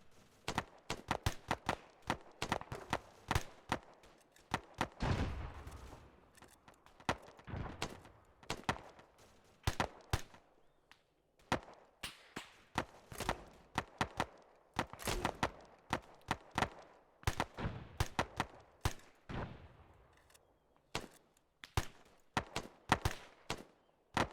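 Arma 3 gunfire comes as a long run of loud, sharp, separate shots in irregular quick clusters, close and dominant throughout the clip, with no talking.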